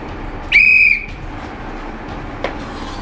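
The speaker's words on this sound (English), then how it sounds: "because of that whistle you have" A single short, shrill whistle blast rings out clearly, then quiet ambient noise follows with a faint tap near the end.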